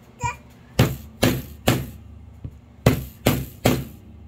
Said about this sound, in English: And then we're going to take the hammer